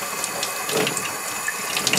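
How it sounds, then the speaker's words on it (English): Lukewarm tap water runs steadily as a tie-dyed shirt is rinsed under it, a continuous close splashing hiss with no voices. "And then you're just going to rinse your shirt."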